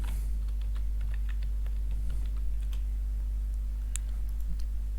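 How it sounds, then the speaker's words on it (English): Rapid clicks of computer keyboard keys typed in quick bursts, close and fairly clear over a steady low electrical hum, with no voices. "my keyboard likes typing without my fingers"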